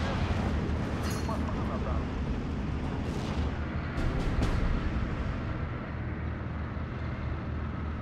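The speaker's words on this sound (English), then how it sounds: "You just bombed the flat." Bombs explode in a video game set at Panther Park, a dense, continuous rumble of blasts with sharper crackling bursts near the second and fourth seconds, loud and sustained throughout.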